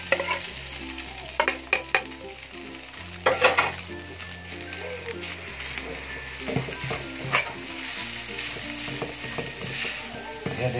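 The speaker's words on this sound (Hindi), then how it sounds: "अब हम इसमें चिकन फ्राई करेंगे" Chicken frying in a pan with ginger-garlic paste as filling for spring rolls, a loud steady sizzle with repeated clanks and scrapes of a metal spoon stirring against the pan, plus a low background hum.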